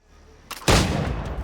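A single loud gunshot in Assassin's Creed III Remastered bursts after a short click, followed by a lingering booming echo, no talking.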